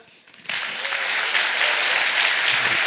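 Applause from an audience at a live debate battle bursts in after a brief quiet moment and then holds dense and steady to the end.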